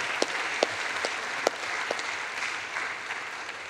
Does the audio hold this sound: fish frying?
no